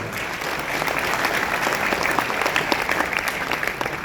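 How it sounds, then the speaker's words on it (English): An audience at a seminar in Manila breaks into sustained applause, a thick, even roar of many hands clapping that continues throughout. "So please give yourself a round of applause."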